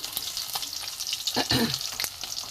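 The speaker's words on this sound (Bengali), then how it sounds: "এবারে দু পিট করে লাল করে ভেজে নিয়েছি" Pieces of fish fry in hot oil with a bright crackling sizzle, close by, punctuated by a few louder spitting bursts in the middle of the short stretch.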